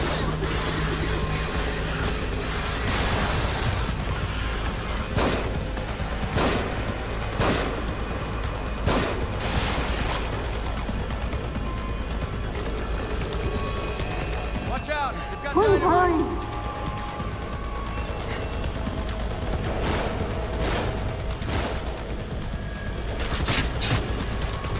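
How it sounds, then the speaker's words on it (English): Repeated sharp gunshots from enemies firing in The Evil Within, irregular bursts across a dense game soundscape with steady background rumble and brief voices speaking. "Find cover. They're shooting."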